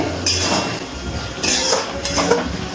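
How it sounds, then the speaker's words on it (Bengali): Chopped coriander is stirred into an onion-stalk curry in a pan. A spoon clinks and scrapes against the metal in three short bursts, close and fairly loud. "ধনেপাতা কুচিটা ভালো করে একটু নাড়াচাড়া করে মিশিয়ে নিচ্ছি।"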